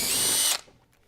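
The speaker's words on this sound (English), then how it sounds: "I'm going to drill the holes and attach them." A power drill drives through the hull while holes are made for a kayak H-bar, a loud steady high whine that cuts off abruptly after about half a second, then near silence.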